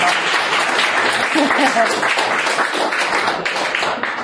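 A live audience at a self-worth workshop applauds steadily, a dense wash of many hands clapping at fairly even loudness for the whole stretch, with faint voices mixed underneath.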